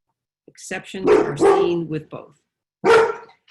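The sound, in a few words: dog barking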